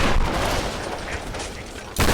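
Dense, loud bursts of gunfire from a Tomb Raider video game, rapid shots overlapping into a sustained barrage that cuts out briefly near the end and then resumes.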